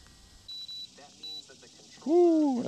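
An Old Town Sportsman AutoPilot 136 kayak motor gives a few short, clear electronic beeps, followed by a voice speaking.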